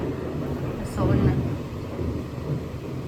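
Thunder rumbling during rain with the power out, a low swelling roll over a steady patter of rain, with people talking nearby.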